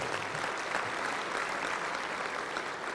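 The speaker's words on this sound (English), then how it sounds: "let me hear a round of applause" Steady applause from an audience at a Touchdown Club luncheon, a dense, even wash of clapping that holds at constant level throughout.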